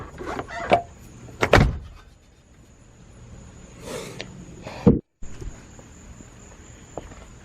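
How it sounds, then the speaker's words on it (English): A fuel pump in a rusty Nissan S13 rescued from a junkyard, switched on with the ignition key: a faint, steady high whine with a few clicks and thumps, then a brief cutout before the whine resumes. "When I turn the key on, I can hear the fuel pump."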